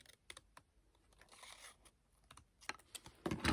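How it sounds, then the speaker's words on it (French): Scissors snip through decorative paper while cutting out a small paper kite shape, giving a few sharp, close cuts spread through the moment and a louder rustling burst near the end. "je la découpe au ciseau"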